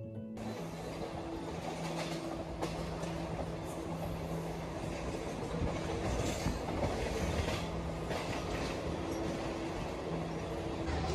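A train rumbling along the rails with a continuous roar, rhythmic clatter and occasional metallic squeals, loud and close throughout.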